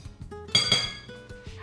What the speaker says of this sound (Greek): Ανακατεύω λίγο χωρίς να βάλω το μίξερ σε λειτουργία